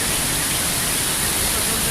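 Rushing water of a rambla, a seasonal riverbed running full after heavy rain, heard as a loud, steady broadband roar that fills the whole moment without pause.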